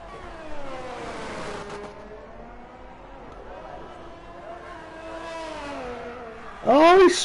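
A race car in a sim racing game spins on the final corner of the Australia circuit. A steady engine drone with pitch sweeps runs under commentary voices, ending in a sharp burst that may be tire squeal.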